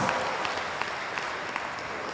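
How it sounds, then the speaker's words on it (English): A room of listeners at a university public lecture applauds a professor, a soft continuous rush of clapping with occasional louder claps popping out, fairly distant and with no speech on top. "please give another warm applause from Professor Han Art."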